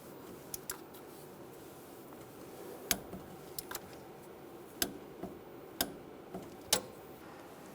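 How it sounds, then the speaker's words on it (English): A torque wrench clicks as a bolt on a 1999-2006 Chevrolet Silverado lower intermediate steering shaft is tightened to 45 foot-pounds, giving sharp, separated ratchet ticks and clicks over a quiet workshop background. "I'm going to torque this bolt to 45 foot-pounds."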